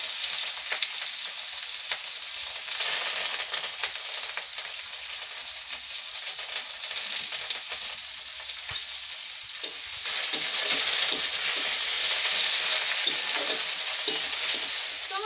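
Chopped onions, curry leaves and whole cumin seeds fry in hot oil, giving a loud, continuous bright sizzle with occasional stirring scrapes. The sizzle swells louder toward the end.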